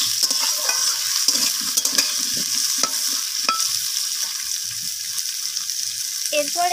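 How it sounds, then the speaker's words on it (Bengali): Radish and potato pieces stirred with onion in a frying pan make repeated scraping and clattering spatula strokes over a steady hiss of frying, close and fairly loud, with no talking. "তো মূলো আর আলুটাকে পেঁয়াজের সাথে একটু নাড়াচাড়া করে নিচ্ছি এইভাবে।"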